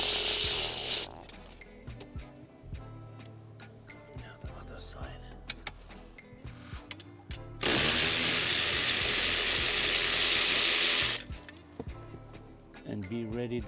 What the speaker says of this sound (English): And now get the bolts in the back loose.